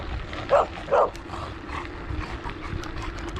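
An overweight Australian Shepherd barks twice in quick succession from a short distance, over steady rolling road and wind noise while passing by on a rural loop north of Gainesville.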